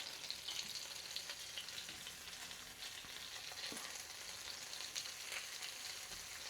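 Lamb meat fries in a flat pan with a continuous faint, even sizzle and crackle and only small pops throughout, no voices.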